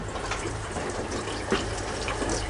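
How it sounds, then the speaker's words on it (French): Water running from an open tap, a steady hissing gush of flowing water that stays continuous and fairly close for the whole short stretch. "Le robinet est ouvert."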